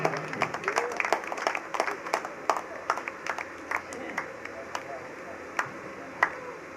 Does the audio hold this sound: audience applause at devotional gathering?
yes